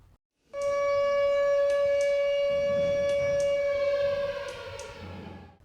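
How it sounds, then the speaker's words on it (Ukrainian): A modern civil defense air raid warning siren shown at a museum in Kirovohrad region starts abruptly and holds one loud, steady wailing tone, which then slowly fades and drops slightly in pitch. "прилад сучасної системи оповіщення людей у випадку повітряної тривоги"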